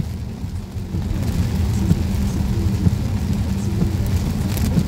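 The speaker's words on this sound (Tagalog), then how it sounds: "Grabe talaga lakas ng ulan" Heavy rain drumming steadily in South Korea, heard from inside a vehicle, a dense low roar with occasional louder drops and no talking.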